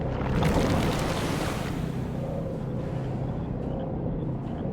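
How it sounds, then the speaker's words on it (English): Floodwater rushes from a burst dam in the Dungeons 2 video game, a loud, surging roar of water that swells early and then settles into a steady wash, with no voices. "The gathered evilness then burst the nearby dam, and the Alliance's camp disappeared under waves of water with a very satisfactory gurgling sound"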